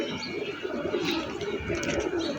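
Pigeons coo softly inside a pigeon loft, close and continuous low murmuring calls, with occasional faint chirps and rustling in the background.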